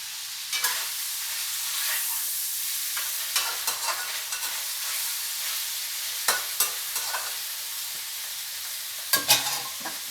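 Beef steak frying in oil for a plain white version, with a soft, steady sizzle broken by several sharp scrapes and clatters of stirring near the pan.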